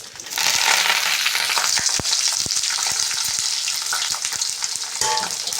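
Cumin, onion, curry leaves and chillies frying in a hot pan, a loud dense crackling sizzle throughout, punctuated by sharp close stirring knocks against the pan, no voices.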